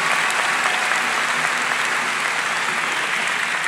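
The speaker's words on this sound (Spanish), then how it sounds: "Aplausos también para nuestro participante." An audience at a live comedy show in Gran Arena Monticello applauds a participant, a dense, even wash of clapping that is loud and sustained from start to finish.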